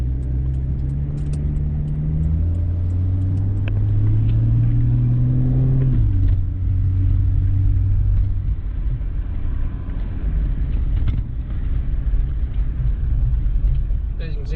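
A 2004 GMC Envoy 4.2L with a FlowMaster Flow FX muffler rumbles steadily while driving, with a low exhaust drone that rises in pitch, drops sharply, then settles into a lower growl.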